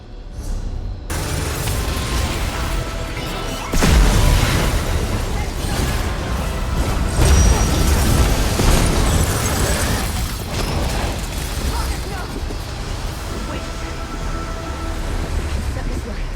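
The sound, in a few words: explosions as Abolisher destroys portals in an Elder Scrolls game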